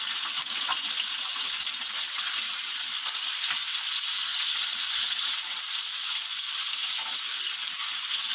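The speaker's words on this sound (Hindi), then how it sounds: "धीमी आंच में हमारे अंडे फ्राई रहेंगे" Eggs frying on a low flame give off a steady, even sizzle that is close and fairly loud, unchanging from start to finish with no voices.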